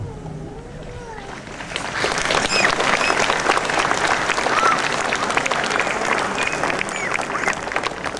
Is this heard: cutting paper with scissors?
no